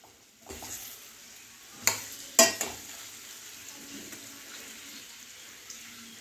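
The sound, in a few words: carrot and radish cooking in oil for pickle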